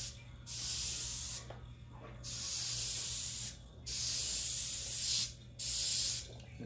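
An airbrush sprays paint for script lettering in four bursts of steady hiss, each a second or so long, separated by brief gaps over a faint low hum.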